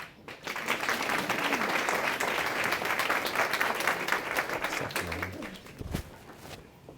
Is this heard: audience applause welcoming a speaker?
yes